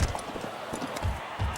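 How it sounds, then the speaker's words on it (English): Horses' hooves thudding on a rainy turf track in Gallop Racer 2004, a quick irregular drumming of low hoofbeats under steady background noise. "The horses are on the track."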